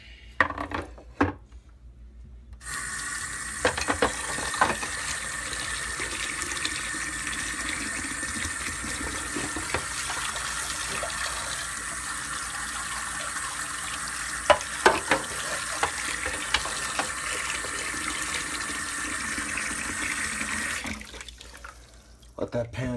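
Kitchen tap running water steadily into a hot pan in the sink, a loud continuous hissing splash lasting about eighteen seconds, with brief clatters at the start and end.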